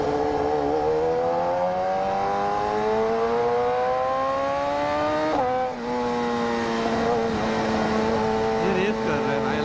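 Motorbikes racing along an open road, engine whine climbing steadily in pitch, dipping briefly at a shift, then resuming loud and close.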